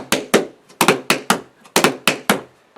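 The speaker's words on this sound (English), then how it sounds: "The number one problem I see with the buffalo is that the shuffle is way too early" Tap shoes strike a hard floor in a buffalo step with the shuffle coming too early, giving quick clustered taps in a repeating uneven rhythm, close and fairly clear with no voices.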